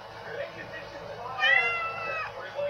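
A pet cat named Simba meows indoors, giving one drawn-out, rising and falling call near the middle of the clip. It is close and moderate in level over a steady low background hum.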